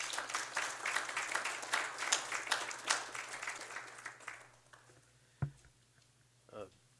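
Audience applause welcomes a keynote speaker at the McCain Conference, dense clapping that fades over about five seconds, followed by a few isolated knocks near the microphone.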